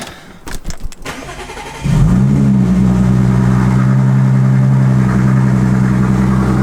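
An Audi S4 cranks with a few rough starter bursts, then catches and settles into a loud, steady idle that hums on for several seconds.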